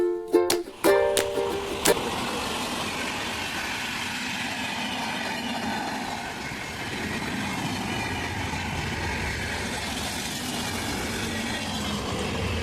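A passenger train ride sounds from inside as a steady, loud rumble and hiss, with a few sharp clanks at the start.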